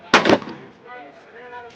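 Full-auto machine gun fired on an outdoor shooting range: a short, loud burst of about two or three sharp cracks right at the start, a ringing decay after it, and one more sharp report at the very end.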